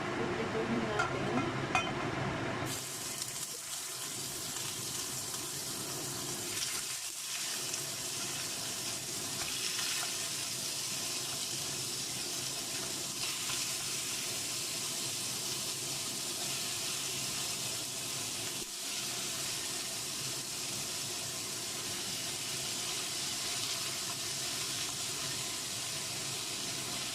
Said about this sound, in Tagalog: So, piprituhin natin itong chicken wings.